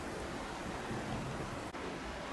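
Rain falls steadily in foggy weather at Tracy Arm Fjord in Alaska, a dense, even hiss of drops with no talking and nothing breaking through it.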